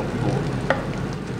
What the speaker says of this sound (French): Tu vas prendre une poêle, tu vas les colorer à l'huile s'il te plaît.